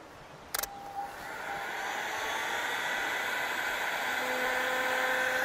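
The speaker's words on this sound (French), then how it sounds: "La décapeur thermique qui peut aller jusqu'à 2200 watts" A 2200-watt heat gun running at maximum speed and heat, a steady loud blowing hiss that swells up after a brief click and holds evenly to the end.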